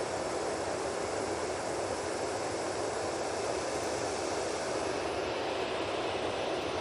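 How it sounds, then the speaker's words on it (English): A TUI airliner's engines spool up at Manchester Airport, a loud, broad, constant roar that holds steady and thins slightly near the end, with no talk. "let's go back onto this TUI. Spooling up now."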